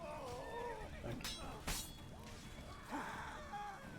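A horse neighs and whinnies amid crashing, clashing combat effects in The Witcher 3: Blood and Wine, the game audio fairly faint, with a player speaking over it.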